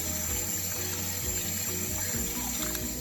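Whole brown masoor lentils being washed in water after soaking, a soft, continuous trickle and slosh with low gurgling underneath, faint and close, with no talking.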